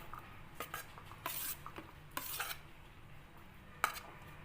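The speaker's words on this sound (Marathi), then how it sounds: "यात घालू किसलेला आलू आणि मिक्स करून घेऊ" Grated potato and capsicum being mixed into a paratha dough of yogurt and semolina in a metal bowl, giving soft scraping and stirring with a few sharp clinks of a spoon against the rim, quiet and with no talk.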